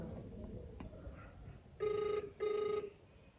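A telephone rings unanswered, two loud, even ring bursts about half a second apart standing out over a quiet room background.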